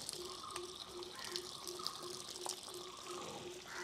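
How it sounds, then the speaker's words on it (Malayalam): Water poured from close by over the tight, bound roots of a rose plant to soak them, a steady splashing gush running for several seconds with faint background tones. "നമുക്ക് ചെറുതായിട്ട് വെള്ളം ഒഴിച്ച് ഇതിനെ ഒന്ന് റെഡിയാക്കി എടുക്കാം"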